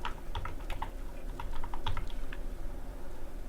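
Steady, fairly loud typing on a computer keyboard while writing code in JavaScript, with irregular clusters of quick key clicks running throughout, heard alone with no talk.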